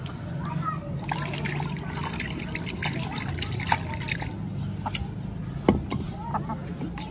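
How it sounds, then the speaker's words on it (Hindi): Water trickles and splashes steadily into a chicken's feed container, with a few sharper drips standing out and a voice faintly in the background. "मैं पानी डाल देते हैं"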